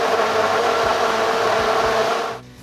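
A blender runs steadily at high speed, loud and close, puréeing cooked soup vegetables with bacon, calabresa sausage and their cooking water, then cuts off abruptly just before the end.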